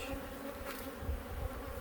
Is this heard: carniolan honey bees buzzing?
yes